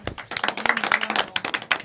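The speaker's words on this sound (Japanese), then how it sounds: "皆さん大きな拍手をお願いいたしますぜ" A small audience claps for a child sharing his dream at a Japanese PTA event, a short, uneven burst of hands with a voice cutting in over it.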